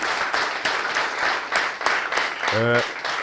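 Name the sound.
audience applause at a comedy roast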